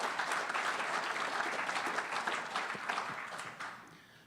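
Audience applause during a talk on governing and funding higher education, a dense round of clapping that holds fairly quiet and steady, then thins and fades toward the end.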